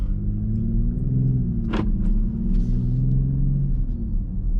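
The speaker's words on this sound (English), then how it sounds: "there's a truck coming" A heavy vehicle rumbles past nearby with a steady low roar, a brief whooshing rush in the middle as it goes by.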